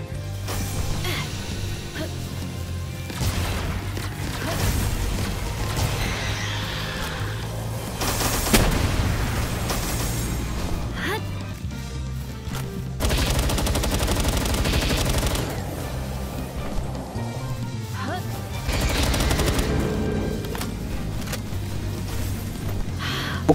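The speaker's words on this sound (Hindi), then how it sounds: "फिलहाल तो मैं इसको डैमेज दे रहा हूँ अपने रॉकेट लॉन्चर से" A rocket launcher fires again and again at a tower boss in Palworld, loud bursts and blasts layered over constant battle noise for the whole stretch, with a few sharper crashing peaks.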